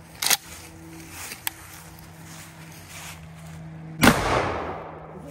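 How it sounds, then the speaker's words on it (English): A single loud shotgun slug blast strikes a steel lattice armor plate, a sharp close report with a long decaying ring; a fainter thump precedes it, over a steady low hum. "This thing kicks like crazy with these slugs."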